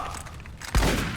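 Gunfire in Fallout New Vegas, a loud, close burst of shots that strikes sharply partway through and carries on as a dense roar over a busy background of fighting.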